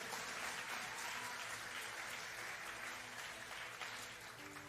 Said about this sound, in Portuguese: alguém pode aplaudir Jesus por isso aqui?